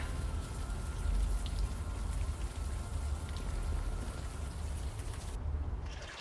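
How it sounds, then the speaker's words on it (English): Rain falls steadily in the video game Unavowed, a dense, even hiss of drops on surfaces with a low rumble underneath that cuts off abruptly near the end. "At least the rain is washing away most of the smell."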